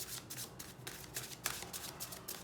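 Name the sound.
shuffling tarot cards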